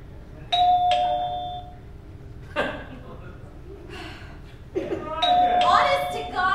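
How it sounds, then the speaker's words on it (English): A doorbell chimes twice in a home, once near the start and again a few seconds later, with voices and a gasp heard in between. "You're still ringing the doorbell."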